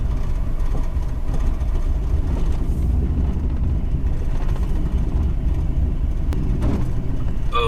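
A 500hp street truck pulls out of a driveway, its engine giving a steady, loud low rumble that stays close and constant throughout.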